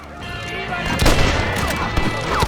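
Shotgun blasts in the Red Dead Redemption video game, heard as loud gunfire over a busy, noisy game mix, with a strong blast near the middle.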